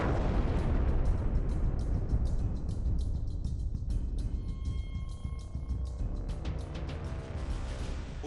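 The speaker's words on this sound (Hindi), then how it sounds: "सुरक्षा बलों ने बारूद से भरी गाड़ी को नष्ट किया था" A car loaded with explosives detonates in Pulwama, producing a sustained, loud roaring rumble of blast noise that fills the whole stretch without pause. Crackling bursts and faint tonal lines sit within the roar.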